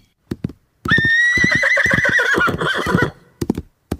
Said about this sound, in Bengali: ঘোড়ার খুরের শব্দ